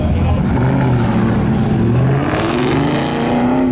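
A supercharged car running about 17 pounds of boost accelerates on an autocross course, its engine droning loud and steady with rising pitch, close by and continuous throughout.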